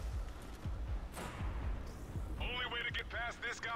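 Gunfire and explosive bursts echo through a shooter game firefight in Army of Two, with a player's voice talking over the repeated thumping shots.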